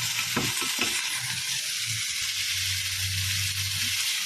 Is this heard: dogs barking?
no